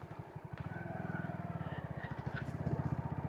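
A Honda Pridor motorcycle engine with gear-shifting trouble revs up gradually as the rider opens the throttle. Its steady, rapid low thumping runs throughout and rises in pace, with faint background noise over the engine.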